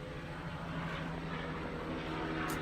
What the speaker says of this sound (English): Something loud is flying over.